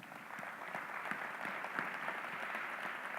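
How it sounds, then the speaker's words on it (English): Faint, distant applause from an audience at a state-of-the-system address, a steady soft patter of many hands heard alone. "You've done it, and you deserve a round of applause for it."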